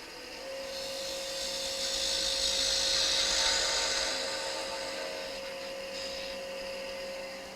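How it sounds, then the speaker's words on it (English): A 3/8 inch spindle gouge cuts wood spinning on a lathe for a birdhouse ornament, giving a steady high whirring hiss that swells in the middle and eases off, over a constant motor hum. "Using this is a 3/8 inch spindle gouge"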